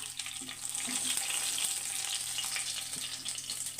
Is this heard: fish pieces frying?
yes